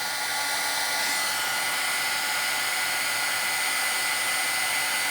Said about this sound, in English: This is a really hot heating tool.